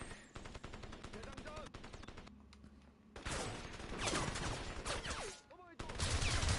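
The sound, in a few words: gunfire in the video game Crysis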